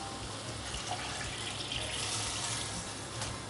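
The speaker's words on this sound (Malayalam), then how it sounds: "ഇനി നമ്മൾ ഇതിലോട്ട് വെള്ളം ഒഴിച്ചു കൊടുക്കുകയാണ്." Water poured into a pot of rice while making tomato rice, a steady splashing stream that runs continuously at close range with no talking.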